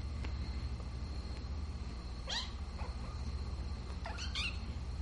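Young foster kittens give a few faint, high meows, first one and a second soon after, then a quick pair near the end, over a steady low indoor hum.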